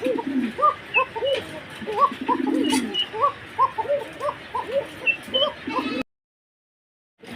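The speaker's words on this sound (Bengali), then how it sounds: "আরেক জোড়া কবিতর রয়েছে" Fancy pigeons coo in steady rounds of soft, throaty burbling calls, several birds overlapping up close, with a person talking faintly underneath before the sound cuts out abruptly near the end.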